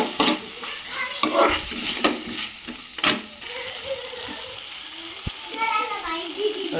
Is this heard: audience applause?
no